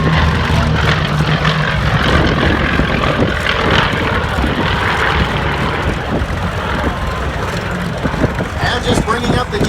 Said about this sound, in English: Listen to the C-1 as he goes by.